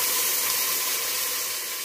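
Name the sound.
water poured into hot pan with browning onions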